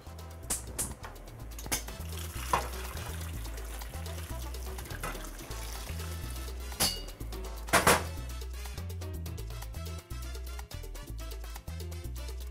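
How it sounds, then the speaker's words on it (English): Boiling water pours into a pot on a stovetop with a few clinks of metal, set against steady rhythmic background music. "Let's put it over the stovetop, and let's add our boiling water."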